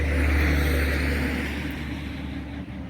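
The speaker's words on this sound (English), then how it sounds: "Stupid logging trucks." A heavy vehicle rumbles past close by, its deep engine drone loud at first and then slowly fading as it moves away.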